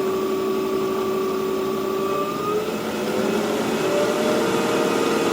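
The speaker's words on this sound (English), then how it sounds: "Yeah, I hear a whine from the motor, but that's just normal" An electric motor in a shop runs steadily at 2000 RPM, giving a continuous tonal whine over a low hum. The level stays constant throughout, with no voices.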